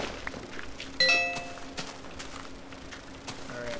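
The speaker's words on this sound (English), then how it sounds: "That was my phone going off." A phone notification chimes once, a short bright ding that rings out near the start and fades quickly over the quiet ambient sound of a Minecraft game.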